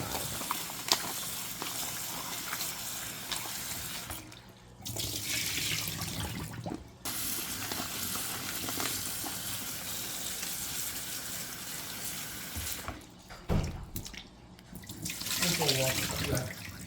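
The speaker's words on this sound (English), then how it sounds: "so I'm washing my okra now." Okra is rinsed under a running kitchen tap, a steady rushing splash of water with brief pauses and some handling noise as the pods are moved under the stream.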